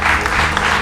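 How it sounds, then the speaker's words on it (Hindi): Loud, dense applause for a magician at a party, a thick wash of many hands clapping together at full volume for a brief moment. "जोरदार तालियां इनके लिए, श्याम बाबू के लिए"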